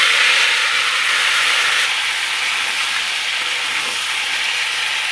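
Soya chunks dropped into hot oil in a frying pan sizzle loudly and steadily from start to finish, a dense close-up hiss with no one speaking.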